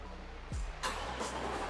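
A Corvette C8 2LT with a 6.2-litre petrol V8 starts up: a starter whine sweeps into a sudden loud bark, then settles into a deep, rumbling idle close by.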